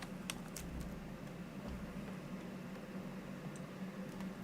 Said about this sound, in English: I'm sorry you can hear the fan in the background.